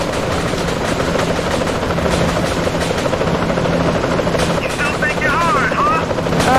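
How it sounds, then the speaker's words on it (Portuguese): Helicopter rotors thump loud and continuous in the video game GTA, a steady close chopping drone with brief gunfire-like cracks and chirping effects, while someone talks over it. "Acabar com esses helicópteros."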